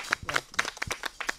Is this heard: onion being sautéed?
no